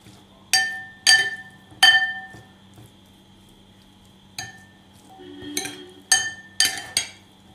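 Metal utensil clinking against a bowl while mixing tuna fish salad, a series of sharp, bright, separate taps with short pauses between them, close and fairly quiet.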